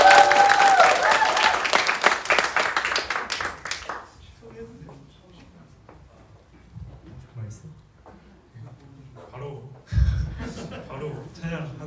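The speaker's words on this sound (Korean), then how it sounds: "우리 큰 박수로 환영하겠습니다" A congregation at a Korean Sunday church service claps loudly to welcome two young men who will sing praise; the applause fades after about four seconds into quiet talk and light chuckling.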